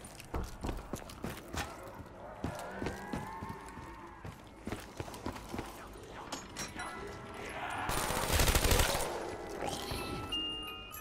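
Rapid gunfire from Call of Duty Black Ops III Zombies on the Kino Der Toten map, sharp repeated shots in quick bursts with mechanical clatter, building to a loud dense burst near the end.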